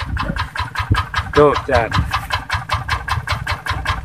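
A tractor engine runs steadily with a rhythmic, pulsing chug close by, while someone speaks briefly over it and a rooster-like call may sound in the background.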